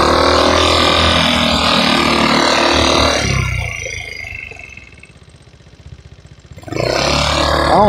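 Small GY6 moped scooter engine revving loudly, then dropping to a low, uneven idle with a soft putter before picking back up, heard during a group ride.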